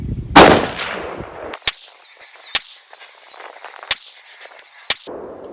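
PSA 18-inch .308 Sabre AR10 rifle firing at an outdoor range, a loud blast followed by four sharp, separate gunshots about a second apart, each with a short ringing tail.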